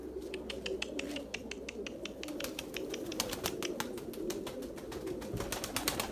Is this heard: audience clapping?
no